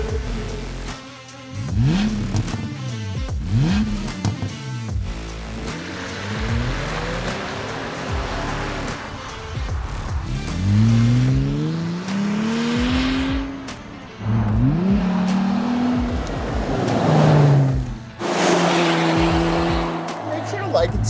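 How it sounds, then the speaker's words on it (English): Jeep Wrangler Rubicon with upgraded engine and exhaust, its exhaust note swelling through repeated revs and accelerations, loud and close, with rising and falling engine pitch and brief tire noise. "I'll leave you with some beautiful exhaust notes"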